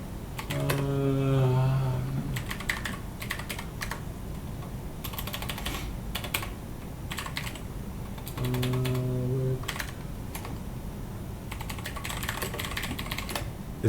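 Fast, crisp clicks from a clicky computer keyboard come in bursts of typing separated by pauses. A short tonal beep sounds twice in the background.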